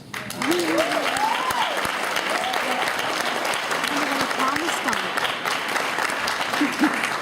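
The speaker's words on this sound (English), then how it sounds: "I think that deserves a round of applause" An audience at an awards event claps steadily and densely throughout, a full sustained round of applause with a speaker's voice faintly audible over it.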